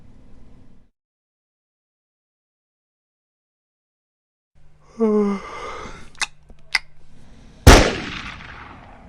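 A gunshot cracks sharply and loudly near the end, cutting through a short stretch of jumbled noise and clicks, then rings out and decays.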